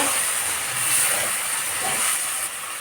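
Spice paste of ground dried and green chillies and coriander, pounded on a grinding stone, frying in a pan for chicken kosha; a steady, dense sizzling hiss holds throughout with no voices.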